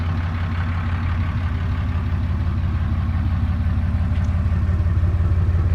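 A 2016 Ram 2500 heavy-duty Cummins turbo diesel idles steadily, a loud, close, low rumbling drone with an even rhythmic clatter and no voices over it.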